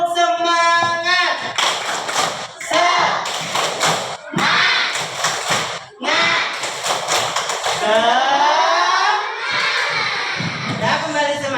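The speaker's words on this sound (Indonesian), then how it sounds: "mari kita tepuk semangat dulu ya." Third-grade schoolchildren in a classroom shout and clap together in bursts, rhythmic claps and thumps alternating with loud group chanting, close and energetic.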